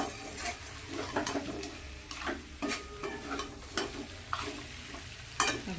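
Mutton and fried potatoes get stirred in a pan, a spatula scraping and clacking in an uneven rhythm over a soft steady sizzle, close by, with no voices.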